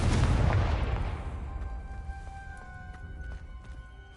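A Confringo fire spell in Hogwarts Legacy detonates as a loud, deep explosive boom that rumbles and slowly fades, followed by faint tonal game effects and small crackles.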